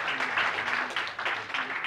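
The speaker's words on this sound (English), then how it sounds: "Should we give them a round of applause?" An audience at a talk on licensing ideas applauds the event organizers, a brief burst of steady clapping with a faint voice underneath.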